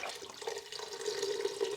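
Vegetable broth, a whole box of about four cups, pouring steadily into two cups of red lentils in a pot, a continuous close liquid splash and gurgle with no voices over it.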